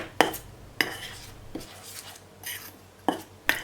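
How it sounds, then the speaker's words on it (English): Chocolate zucchini bread batter is mixed in a bowl, with a utensil giving several sharp, irregular clinks against the bowl over a soft, quiet background. "Mix them all together in a bowl"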